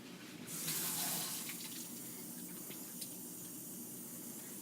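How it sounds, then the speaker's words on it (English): Water gushing from a sink tap during handwashing in a hospital, a steady close hiss that swells briefly at first and then runs on evenly. "So I'm going to wash my hands."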